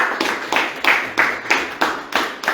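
A small audience claps together at the close of a French-language accounting lesson, in steady rhythmic bursts of about four claps per second, moderately close and with no talk over it.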